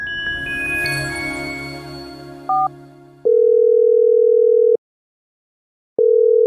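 A short two-note beep, then a steady electronic ringback tone that sounds, pauses for over a second, and sounds again, loud and close.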